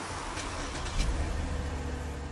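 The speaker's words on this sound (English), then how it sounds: "And the car is started." A stolen car's engine turns over and catches, settling into a steady close idle rumble with a brief rise as it starts.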